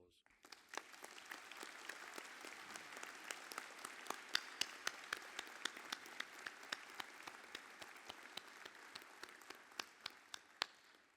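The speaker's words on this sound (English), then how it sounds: "Ladies and gentlemen, please honour them with your applause" Scattered clapping from a graduation ceremony audience honouring new graduates, sharp individual claps ringing out in a quiet hall, faint and sparse rather than a full ovation.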